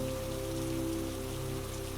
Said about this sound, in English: The rain continued its patient, even work.